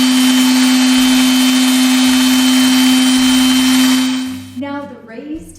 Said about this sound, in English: I used an electric sander with 120 grit sandpaper, and what we will do is go along the edges.